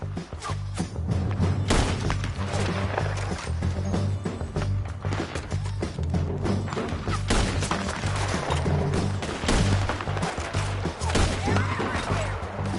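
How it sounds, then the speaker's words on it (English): Chaotic shootout with scattered loud gunshots and impacts crackling over a droning musical score, irregular bursts throughout, with voices shouting beneath the din. "Keep shooting until they're gone!"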